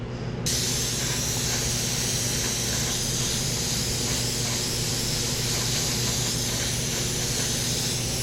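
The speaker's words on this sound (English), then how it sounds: "The airbrush is always moving when I pull back for paint and when I let go for paint." An airbrush sprays paint for a sunset sky scene, giving a continuous loud, close hiss with a steady airflow hum underneath throughout, with no talk.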